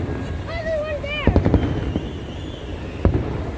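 Loud fireworks at a Saudi National Day celebration, a burst of several sharp booming bangs followed by a later single blast, with excited voices shouting and talking over and between the explosions.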